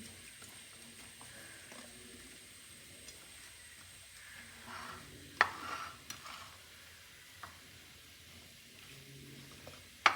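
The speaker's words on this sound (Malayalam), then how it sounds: "മുളക് പൊടി ഉലുവാപ്പൊടി ഉപ്പ് എല്ലാം ഒന്ന് ഇളക്കി" Chili powder, fenugreek powder and salt get stirred into a homemade orange pickle, faint soft scraping and shuffling with a few sharp clicks of the spoon against the container, quiet and close, no voices.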